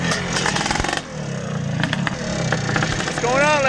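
A restored 1984 Yamaha YZ465 two-stroke motorcycle engine running and revving, a rough buzzing drone rising and falling close by, with people talking over it.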